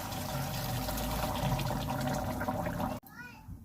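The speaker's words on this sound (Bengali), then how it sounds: "আমি এবার গরম জল দিয়ে দেব। যে জগে আমি গরম জল করেছি দিয়ে দেব।" Hot water poured from a jug into a pan of curry, a continuous rushing splash and gurgle that cuts off abruptly near the end, leaving a quieter, bubbling simmer.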